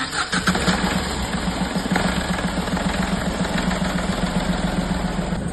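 A 2011 Chevrolet Beat diesel car starts and settles into a steady, loud idle, with a rough low hum that stays even and close for several seconds. Nobody talks.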